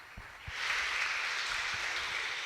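Church congregation applauding for a sister at a youth service, a steady wash of clapping that swells after a brief quieter start and holds evenly, heard from a moderate distance with faint low thumps underneath.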